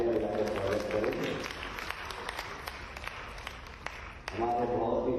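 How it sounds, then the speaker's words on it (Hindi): Crowd applause welcoming Om Birla, Lok Sabha Speaker, as chief guest at an event in Bhopal; a few seconds of dense clapping rise between stretches of someone speaking. "ऐसे हमारे आज के मुख्य अतिथि ओम बिरला जी की तालियां बजाकर स्वागत करें।"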